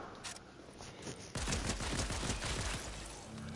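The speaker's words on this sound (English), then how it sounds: "Someone's here. I hear shooting." A video game firefight breaks out with a dense burst of rapid gunshots after a quieter opening with faint clicks, continuing as a loud, crackling volley until the end.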